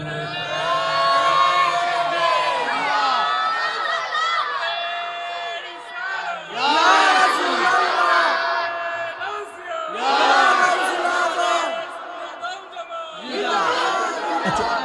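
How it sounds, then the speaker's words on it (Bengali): A large crowd at an Islamic religious gathering loudly chanting takbir in unison, swelling in repeated shouted waves several times over about fifteen seconds, loud and close with reverberant voices overlapping. "জোরে একটা তাকবীর হবে জোরে"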